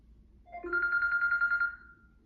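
A single electronic telephone ring, a warbling trill lasting about a second, clear and close against a quiet background.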